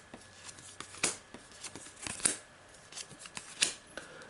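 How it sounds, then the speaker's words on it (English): Playing cards being dealt from a deck during a tabletop game of Marvel Legendary, a series of sharp, close card snaps and slides spaced irregularly over a few seconds, with no talking. "So let's deal myself 6 more cards."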